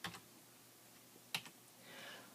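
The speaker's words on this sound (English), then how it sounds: "I just typed that with the keyboard" Keys on a computer keyboard are typed while entering a spreadsheet formula, a few soft close clicks spaced apart in a quiet room, with a light rustle toward the end.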